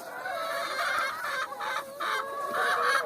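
Several chickens cluck continuously nearby, overlapping calls in a steady busy chorus with no talking.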